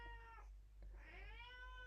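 A cat meows indoors, two drawn-out rising and falling cries close to the microphone, fairly faint, over a low steady background hum.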